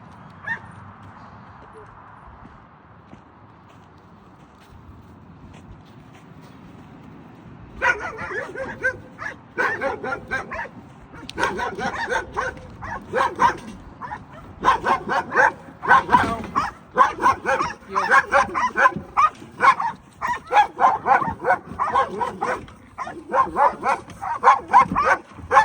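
Several dogs bark at a dog in training after a quiet opening, erupting into loud, rapid, overlapping barks and yips that continue in bursts for about eighteen seconds.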